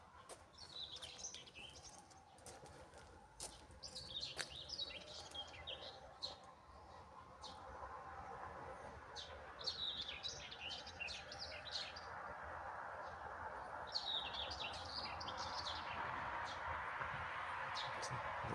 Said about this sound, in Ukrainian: І так я кожен ранок слухаю цього соловейка.